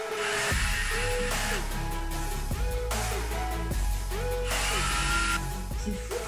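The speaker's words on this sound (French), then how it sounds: "Peut-être pas percer une quatrième fois au bout d'un moment, ça va peut-être aller." A power drill boring into wood while building a large wooden cat tree, with repeated whirring bursts that rise and stop, close and loud, with short pauses between runs.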